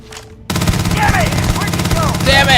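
Rapid bursts of enemy gunfire in the space game Starfield hammer away loudly and continuously after a quiet start, with whooshing effects and the occasional rising tone over it.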